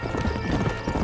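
Horse hooves clip-clop steadily in the Red Dead Redemption PC game, a quick continuous trot close and fairly loud, with a low rumble of game ambience underneath.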